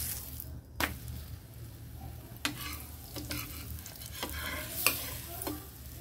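Paratha sizzling in a hot pan with ghee, a soft continuous fry hiss punctuated by several sharp clinks and scrapes of a spatula at irregular intervals.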